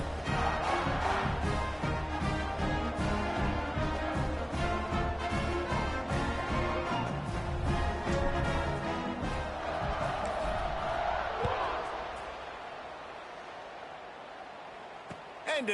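Large football stadium crowd at a Kansas State game roaring steadily after a touchdown drive, dense and loud throughout, with band or horn tones woven in, then easing to a lower murmur near the end.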